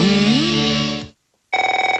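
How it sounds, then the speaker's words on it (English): Telephone ringing in a radio advert: a loud electronic ring with a rising warble, a brief silence, then another burst of rapid pulsing rings, close and alone. "If fear strikes your heart when the phone rings"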